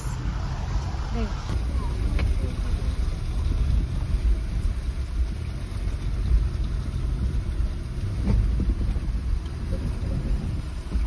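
A low-slung car creeps over a rocky trail on the way to a pine forest campsite, with a steady, close engine rumble and rough broadband road noise throughout.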